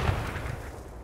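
A grenade exploding in Counter-Strike, a dull muffled boom at the start that fades into a rumbling tail, fairly quiet and distant-sounding.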